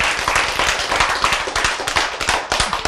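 An audience claps in a lively burst of applause that stays close and loud across the short stretch, the claps dense and overlapping.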